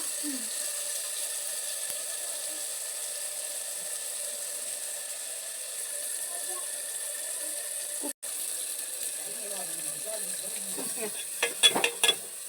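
North Karnataka jhunka cooks in a pan with a steady, even sizzle throughout. A few scraping stirs come near the end.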